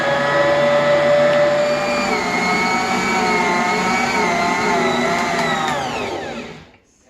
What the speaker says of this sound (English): It has been a full 5 minutes that my dough has been going in the mixer at a medium to high speed.